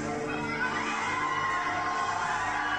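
Dense, steady roar of a wrestling arena crowd cheering as a famous wrestler makes his entrance, with loud massed voices and shouts sustained throughout.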